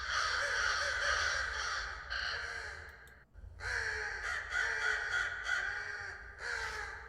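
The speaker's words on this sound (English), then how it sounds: "I wanted to get more crow calls." A crow caws as a game environment effect, two long, loud, raspy caws split by a short pause, close and alone.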